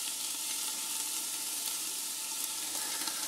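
Ingredients for cherry chipotle BBQ sauce sizzle steadily in a pot, a dense, even crackling hiss that continues without pause and with no voices.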